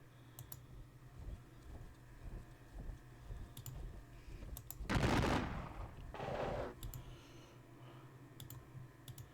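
Gunfire in a Gettysburg Civil War strategy video game: two separate crackling bursts of musket volleys, the first louder and longer, over a steady low background hum with faint clicks. No one speaks.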